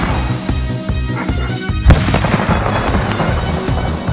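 Fireworks set off from a small remote-controlled model car rigged as a launcher, a loud dense crackle of rapid pops and bangs with a sharper burst near the middle, continuing without pause to the end.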